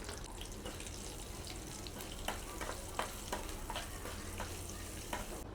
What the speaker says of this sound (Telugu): ఇప్పుడు తాలింపు కూడా రెడీ అయిపోయిందండి.